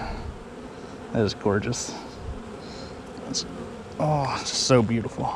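Honey bees buzz loudly around an open hive during a nuc installation, a steady swarm drone close by while a person talks excitedly over it.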